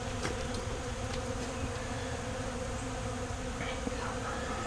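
A dense, steady buzzing of many honey bees swarms close by around hive boxes, continuous throughout with a few louder passes of individual insects.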